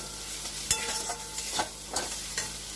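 Prawn curry masala with chili powder sizzles softly in a pan, a steady frying hiss broken by several sharp stirring scrapes spaced about every half second to second.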